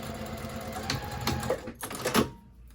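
A sewing machine stitches the bottom seam of a scrap fabric bin, its motor whirring at moderate volume with a few sharp clicks and bursts before it stops and the sound drops away near the end.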